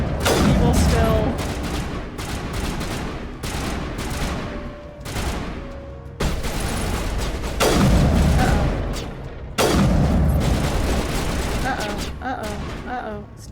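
Gunfire in the video game Mass Effect comes as dense, loud bursts and booming volleys that keep going throughout, with a voice talking over the shooting.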